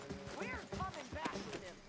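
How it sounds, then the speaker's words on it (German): Horse hooves clip-clop in Red Dead Redemption 2, a few rhythmic footfalls under someone talking over them, with a horse's snorting or whinnying tones mixed in. "Alter Pferd, bleib jetzt stehen!"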